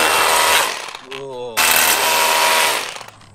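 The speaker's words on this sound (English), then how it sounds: "We're gonna hammer drill this baby down." Hammer drill boring holes for a DIY skatepark build, loud close-up rattling bursts broken by a short pause where the motor winds down, then another sustained burst that tapers off at the end.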